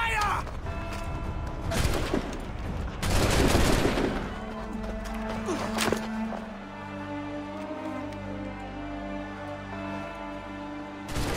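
Musket volley fire in a cutscene from the Assassin's Creed III video game, with bursts of loud crackling shots in the first few seconds, then a lingering rumbling, creaking aftermath under a sustained tone.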